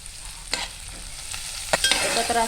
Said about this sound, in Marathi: परतवून घेऊया. कांद्याला कलर येईपर्यंत.